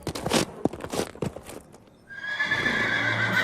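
A horse gallops with quick, uneven hoof thuds close by, then lets out a long, loud, quavering neigh that carries to the end.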